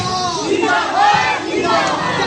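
A crowd of demonstrators chants protest slogans demanding justice for a murder victim and an end to casteism, voices massed together in loud, rhythmic, shouted waves at close range.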